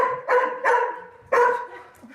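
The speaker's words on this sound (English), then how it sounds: "That's some excited barking there." Dogs bark excitedly during a play session at a community dog event, three loud close barks in quick succession followed by a faint whimper.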